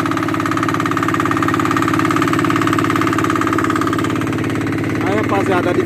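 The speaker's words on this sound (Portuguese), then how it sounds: "Tem um motor, galera," A small motor drives an artisanal lobster-fishing boat at sea, a loud, steady, close-up engine drone with an even throbbing pulse throughout, with a voice talking over it near the end.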